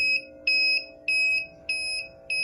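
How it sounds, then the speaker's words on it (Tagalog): An empty-tank alarm in a manufacturing plant sounds a repeating electronic beep in steady pulses, about five tones, over a low constant hum, with no voices. "So ito yung example ng program sa empty alarm ng tangke o ng vessel na ginagamit sa manufacturing plant."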